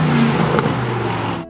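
A $250,000 supercar accelerates hard, its engine roaring loud and close in a brief burst with rising pitch before cutting off abruptly.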